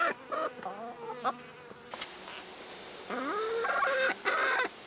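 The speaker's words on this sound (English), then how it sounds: "the chickens are excited" Chickens cluck and squawk in quick, agitated bursts nearby, with a faint insect buzz humming in the background.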